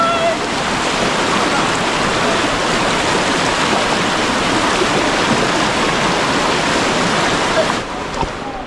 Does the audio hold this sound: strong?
yes